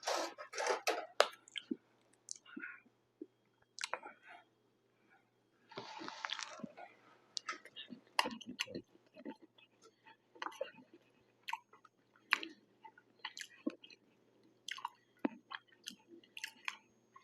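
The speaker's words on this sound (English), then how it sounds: "Let me just taste the cake by itself." Close, quiet chewing of cake during a mukbang meal, with soft wet bites and mouth sounds in irregular bursts separated by brief silences.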